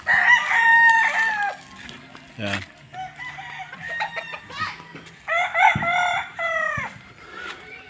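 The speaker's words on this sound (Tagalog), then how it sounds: "maraming manok dito" Chickens, including a white breed from Davao, crow and cluck at a poultry farm, several bursts of crowing and clucking rising and falling close by, with someone talking briefly between them.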